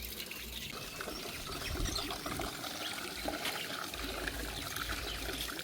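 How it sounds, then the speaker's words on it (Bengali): Water splashes and trickles steadily while soft shrimp are gently washed by hand, a close, continuous wet sloshing with no talking. "তো আস্তে আস্তে ধুয়ে নেওয়া হচ্ছে চিংড়ি"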